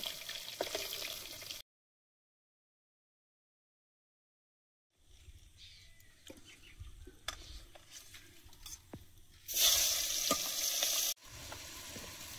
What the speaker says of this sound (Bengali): মাছগুলো ভাজা হয়েছে, তুলে নিয়ে বাকিগুলো ভেজে নেব।